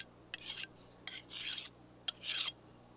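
A kitchen knife drawn across a sharpening stone in three separate rasping strokes, each a short scrape with a sharp click at its start, close up and alone against quiet background.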